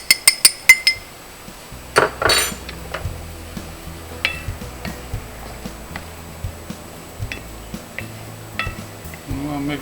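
A utensil stirring white wine and all-purpose flour in a pot, sharp clinks and taps against the metal at an uneven rhythm, close up, with someone talking intermittently over it.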